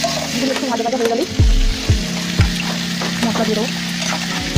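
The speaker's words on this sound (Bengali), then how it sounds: "আলুগুলো একটু ভাজা ভাজা হলে তারপরে আস্তে আস্তে করে একটা করে মশলা দিতে হবে।" Potatoes fry in a pan for a home-cooked fish curry with egg and chilli, a loud, close, steady sizzle broken by a few sharp thumps of stirring.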